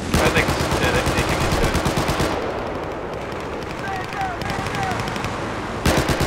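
Rapid machine gun fire in the video game Battlefield 4 on the Zavod 311 map, dense fast bursts that break off midway, then a quieter stretch of distant battle noise before the firing resumes.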